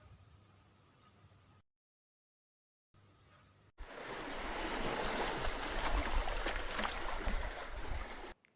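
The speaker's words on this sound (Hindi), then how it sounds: "सिर्फ दूर बहते समुद्र में तूफान है।" A stormy sea roars in a dense, rumbling wash of surf and wind, quiet at first, cut by a brief silence, then swelling into a loud, sustained crash of waves.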